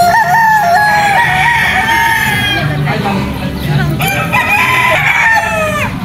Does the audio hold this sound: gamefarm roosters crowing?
yes